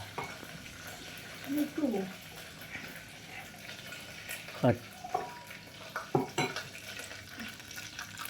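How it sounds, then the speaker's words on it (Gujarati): Mustard seeds and cumin crackle in hot oil while tempering khichdi: a steady sizzle broken by sparse sharp pops, with a voice briefly heard a couple of times. "જો આ તેલ તતડ્યું, રાઈ જીરું તતડ્યું."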